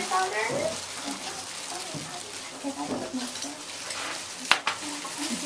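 Garlic and ginger being mixed into kimchi seasoning in Seoul, soft squelching stirs and scrapes close by, with a sharp clink near the end and talk running over parts of it.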